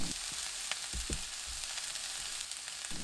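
Onions and chili stir-fry in a pan with a steady, close sizzle and a few soft stirring knocks near the start and middle, and no voices.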